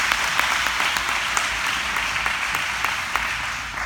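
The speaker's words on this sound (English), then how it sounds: "And yes, please give all of them a round of applause." Steady applause from a church congregation, a dense even patter of many hands clapping throughout, fairly loud and without talk.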